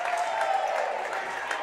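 A loud crowd cheers and claps throughout a girls' Class A quarterfinal basketball game, Clarion Area against North Clarion, forming a steady roar of noise from the stands.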